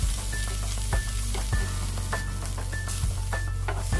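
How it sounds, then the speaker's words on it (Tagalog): Pork liver frying in a home kitchen pan gives a steady close sizzle throughout, with a few brief scraping touches and no voices. "i-fry lang natin yung liver ng pig"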